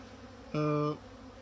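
A single bee hums loudly past from a drone-laying hive, a brief steady buzz of under half a second over a faint background.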